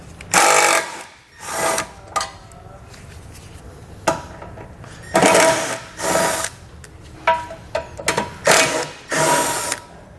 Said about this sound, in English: we're going to go and pull all these bolts out using a 13mm socket